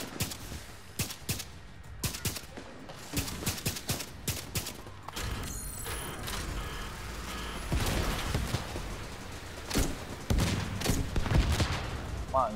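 Rapid overlapping gunfire from several players firing together during a video game raid, sharp repeated bursts building in density, with occasional voices underneath.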